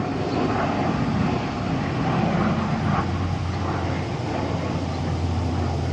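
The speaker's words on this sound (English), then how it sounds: "There goes the plane again. Oh, that's a huge ass plane." A large airplane flies low overhead, producing a loud, steady broadband roar that fills the whole stretch without letting up.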